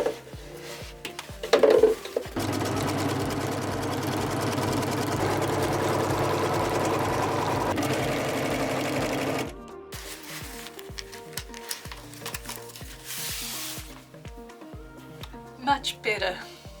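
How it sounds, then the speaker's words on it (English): A sewing machine stitches in one continuous run of about seven seconds, close and steady, followed by quieter handling noises and scattered clicks. "so I just need to finish sewing that last one"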